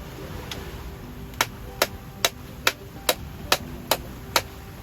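A hammer striking a coconut to crack it, about nine sharp, evenly spaced knocks close by, one roughly every half second, over faint background noise.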